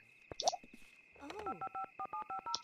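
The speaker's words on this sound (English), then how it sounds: "Right, you need to phone up Farmer Melody." Telephone keypad tones from The Sims (Deluxe Edition) video game: a rapid run of short, evenly spaced beeps as a number is dialed, preceded by a few brief game interface sounds.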